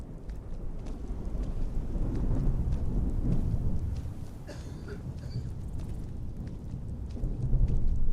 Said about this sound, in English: Even on days like this, when the rain's hammering down, a bit of fresh air does a body good.